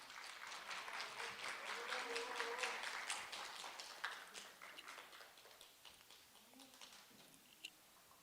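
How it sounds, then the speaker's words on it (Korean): An audience applauds to welcome a speaker at a report meeting, a faint, distant patter of many hands that swells and then thins out to a few scattered claps. "힘찬 박수 부탁드리겠습니다."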